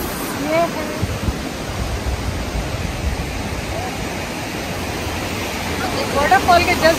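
Water rushes over stones below a waterfall in Slovenia's Vrata Valley, a steady broadband roar that holds constant throughout, with brief faint voices near the start and end.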